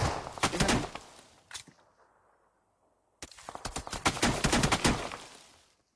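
Rapid bursts of gunfire in the God of War video game, two loud volleys of quick repeated shots separated by a short quiet gap, with no talking over them.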